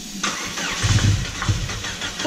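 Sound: go-kart engine cranking and starting

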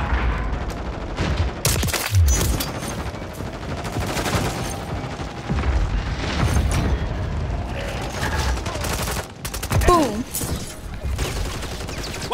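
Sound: gunfire in a PlayStation video game

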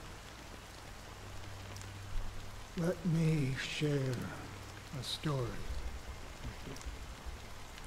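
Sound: black rain drizzling, from the video game Honkai: Star Rail

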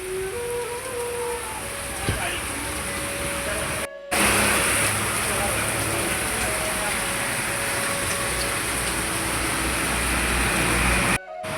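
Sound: heavy rain

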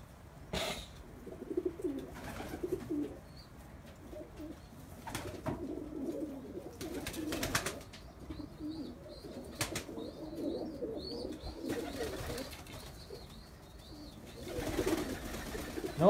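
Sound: pigeons cooing in a pigeon coop

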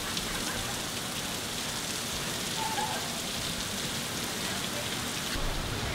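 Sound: rain falling at Lake Placid

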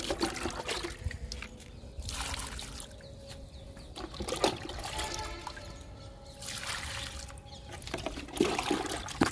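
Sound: liquid fertilizer poured from a mug into okra plant tubs

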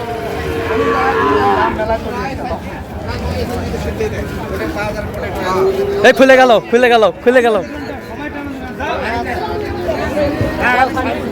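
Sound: cattle mooing at livestock market

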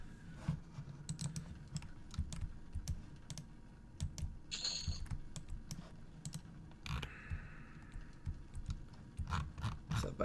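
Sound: typing on computer keyboard in EverQuest chat box

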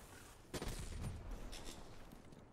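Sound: gunfire in video game Call of Duty Black Ops 3

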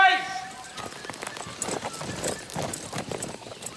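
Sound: horses galloping

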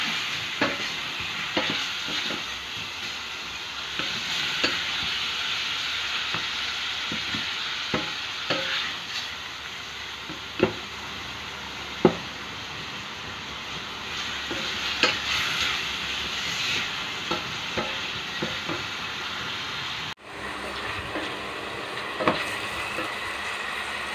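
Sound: beef pieces browning and sizzling in a pan

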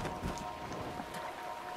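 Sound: rain in video game Breath of the Wild

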